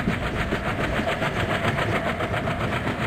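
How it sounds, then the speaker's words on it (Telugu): In an Indian Railway train simulator mobile game, another train draws near with a steady engine drone and a faint rhythmic pulsing, moderately loud and continuous with no voices. "యో గైస్, ఇంకొక ట్రైన్ వస్తుంది."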